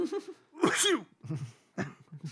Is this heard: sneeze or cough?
yes